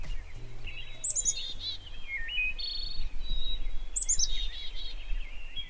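Birds sing outdoors in Cherryfield, Maine, in bright, high whistled phrases and chirps, several calls repeating against a soft background hiss.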